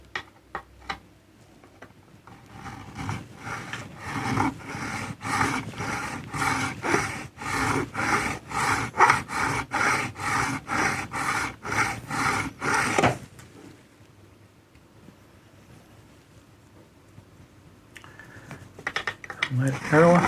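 Guitar frets on a Pango Stratocaster kit neck are crowned and polished with a quick, even series of about twenty scraping strokes, close and fairly loud, followed by a quiet stretch and a few light handling noises.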